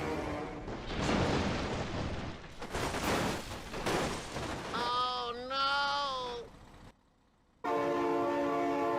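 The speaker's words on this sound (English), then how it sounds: "my god, train!" A train in the BeamNG driving game sounds its horn in long, loud, sliding blasts over heavy rumble and crash-like noise, followed by a brief drop and another sustained horn; a person exclaims in the background.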